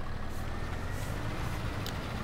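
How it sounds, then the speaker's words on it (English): A tractor in Farming Simulator 25 drives along with a steady, rumbling low engine drone and no change in pace, heard alone without speech. "I drive a tractor into a puddle."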